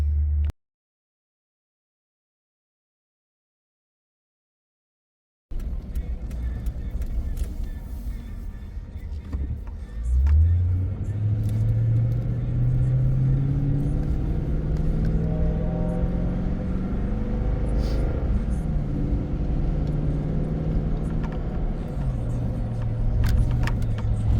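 A car interior holds a steady road drone after a brief silence, with the engine note rising and settling as the vehicle accelerates onto the road, no talk heard.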